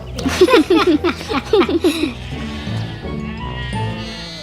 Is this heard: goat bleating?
yes